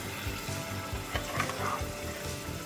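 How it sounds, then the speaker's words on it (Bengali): Beef with jackfruit seeds fries in a pot for a Bangladeshi Mezbani-style curry, a steady close sizzle broken by soft stirring scrapes and bubbling, with no one talking. "এটা দিয়ে আমি থেকে থেকে জাল মানে কষিয়ে নিব যাতে মাংসটা একটু সিদ্ধ হয়ে যায়"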